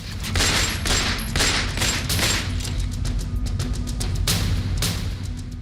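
Rapid gunfire during a street shooting and bombing in a lane, dense crackling bursts of shots over a rumbling low background, continuous and loud throughout.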